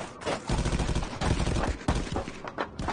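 Gunfire in the VR shooter game Contractors: loud, dense rapid-fire bursts from automatic weapons, nearly continuous with brief gaps, close and heavy, with no talking over it.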